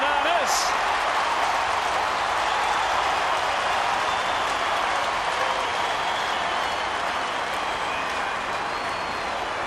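Stadium crowd at an AFL match between Collingwood and Sydney Swans roars continuously after a banana kick goal, a loud sustained wash of cheering and applause with a commentator's voice underneath throughout.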